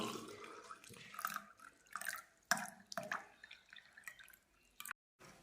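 Water for a lemon drink is poured in short, splashy bursts with drips and gurgles, close and fairly quiet, ending in a brief silence.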